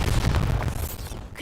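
A Bombarda explosion spell goes off in a Harry Potter video game, a low rumbling blast with crackling debris that fades over about a second and a half, with no voices.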